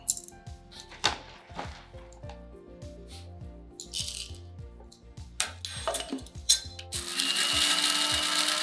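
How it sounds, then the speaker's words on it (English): Sunflower seeds rattle and clatter in a coffee grinder during dog-food prep, then the motor kicks in near the end with a loud, steady whirring grind, heard up close with no talk. "And you thought they were just for making coffee. Perfect. Makes a really nice fine powder"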